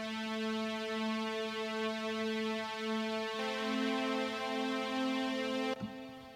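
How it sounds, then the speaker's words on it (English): Synth pad plays sustained chords in thirds, washed in heavy reverb, in a house-music production; one chord holds, shifts to a second chord partway through, then cuts off abruptly, leaving only a short tail. "just get a pad sound with a lot of reverb on it"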